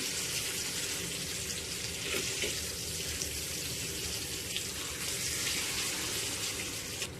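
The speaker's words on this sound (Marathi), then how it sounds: "पुन्हा आता आपण खालच्या बाजूने तीन चार मिनटं फ्राय करून घेऊया" Pomfret fillets frying in a pan with Agri masala, a steady dense sizzle and crackle running unbroken at an even, moderately loud level with no voices.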